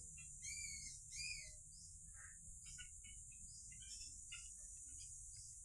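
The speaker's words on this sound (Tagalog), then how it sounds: "Daming ibon, no." Several birds chirp and call in a forest near a spring, in short scattered bursts over a constant high insect drone, all fairly faint.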